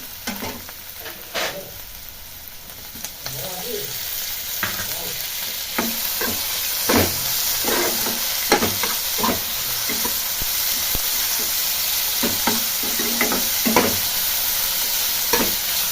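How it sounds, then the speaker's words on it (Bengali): Spices and onions frying in a pan for noodles, a steady close sizzle with repeated scraping strokes of a spoon stirring against the pan, growing busier and louder as it goes on. "এবার দুটো একসঙ্গে নাড়তে থাকবো।"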